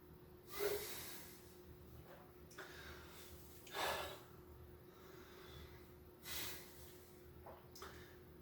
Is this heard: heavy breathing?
yes